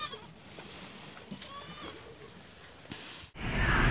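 A goat bleats on a farm where a doe has just had a record litter of kids, the cry sounding in short wavering bursts over steady background noise before a louder rush of sound at the end.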